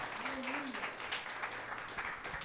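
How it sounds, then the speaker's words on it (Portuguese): Church congregation applauding for Jesus during a Portuguese-language sermon on God and crisis, a steady wash of clapping from many hands filling the room, with a brief voice or tone near the start. "dê um aplauso a Jesus"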